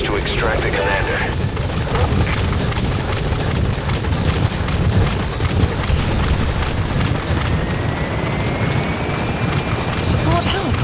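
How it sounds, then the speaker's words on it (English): Support helicopter arriving at a landing zone in Metal Gear Solid 5, a steady loud rotor roar with dense rumble and explosion-like bursts, under almost constant speech. "Support helicopter has arrived."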